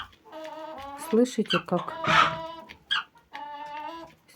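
A hen with a cold clucks and calls inside a chicken coop, its short raspy notes close by and mixed with a woman's speech.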